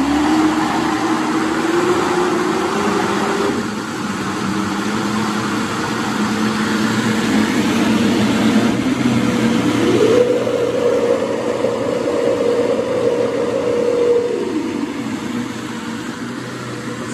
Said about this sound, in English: the motor is so nice and quiet. I mean, it just hums.